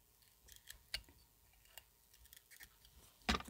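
Utility craft cutter slicing while customising pencils, a few small scattered clicks and scrapes up close, ending in one sharper louder cut, with no talking.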